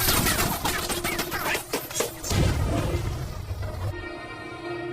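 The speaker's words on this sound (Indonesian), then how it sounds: "menembak polisi tersebut dengan brutal sampai mobilnya meledak" Loud bursts of film gunfire at police, with sharp crashing impacts and booms as a car explodes, dense and chaotic, ending in a lingering low rumble.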